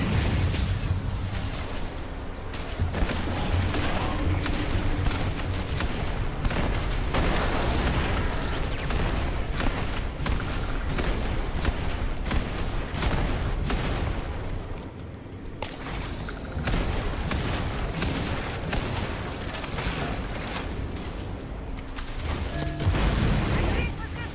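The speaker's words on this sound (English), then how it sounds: "Turrets." Turrets fire amid continuous explosions and combat in the video game Starfield, a loud, dense barrage of booms and blasts that barely lets up, with a voice speaking over it.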